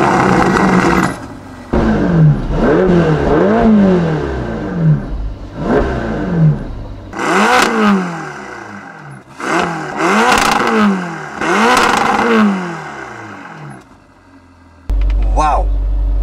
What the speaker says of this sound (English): on revs, idling, the turbocharged engine V8 sounds ridiculously good